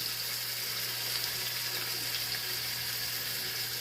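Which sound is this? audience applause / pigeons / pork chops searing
pork chops searing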